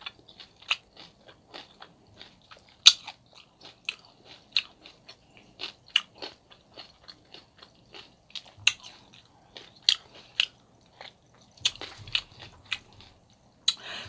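Bacon gets bitten and chewed close up: crisp crunches and crackles pop out one after another in an irregular rhythm over near silence, with no talking.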